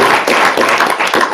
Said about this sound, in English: I want to give a round of applause for Richard